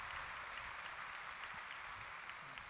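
Faint, distant audience applause at a Korean CBMC conference following a choir's hymn performance, a soft even patter of many hands sustained throughout.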